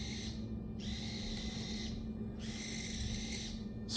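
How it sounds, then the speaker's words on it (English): An upgraded, quieter servo motor on a robot runs in faint bursts, a soft high whine that starts and stops three times over a low background hum. "This is what this other servo sounds like."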